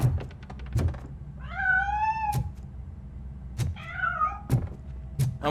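Two drawn-out meows from a cat in the video game RoboCop: Rogue City stand out between sharp, heavy metallic thunks and clanks, all close and without any talk.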